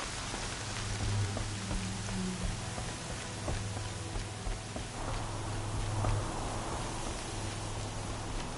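Steady rain patters on a surface, a constant hiss with scattered drops and occasional knocks, no voices, moderately loud throughout.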